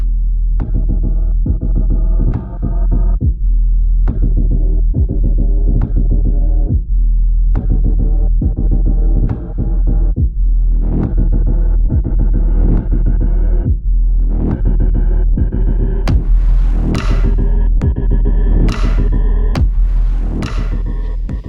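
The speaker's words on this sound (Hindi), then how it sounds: "एसी ऑन है, मिनिमम टेम्परेचर पे।" An air conditioner runs at its lowest temperature setting in a room, giving a steady loud low hum with a rhythmic throbbing pulse and faint tonal whine throughout, no voices.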